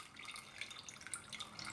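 Whey pours and drips through a sieve while homemade ricotta drains, a soft, steady trickle with faint intermittent drips, close and quiet with no voices.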